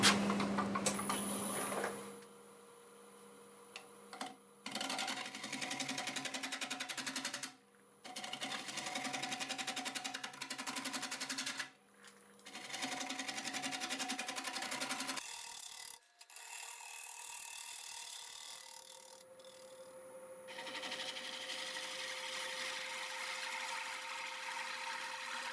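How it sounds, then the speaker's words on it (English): A wood lathe spins a bowl blank at about 700 RPM while a half-inch bowl gouge cuts it, making a steady hissing, whirring scrape. The passes run several seconds each, broken by brief pauses. "We'll be doing about 700 RPM with a 1/2 inch bowl gouge."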